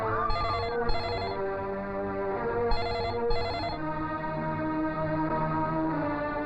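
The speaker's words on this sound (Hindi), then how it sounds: "मिठाई नहीं, मोबाइल है सरदार। बिना तार का टेलीफोन।" A mobile phone rings with repeated electronic ringtone bursts in paired pulses, loud and close over a humming background score, continuing for several seconds.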